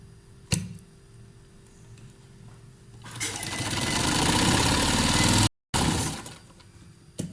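A sewing machine stitching the side seam of capri trousers, running in a rising, steady mechanical whir for a few seconds, stopping briefly, then resuming, with sharp clicks before it starts.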